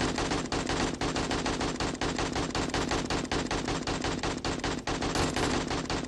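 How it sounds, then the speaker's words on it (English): Rapid, sustained automatic gunfire from other players in the zombie survival game 7 Days to Die, loud bursts crackling in a steady rhythm with no speech. "I wish you guys would quit shooting!"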